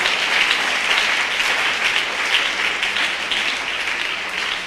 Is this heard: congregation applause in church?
yes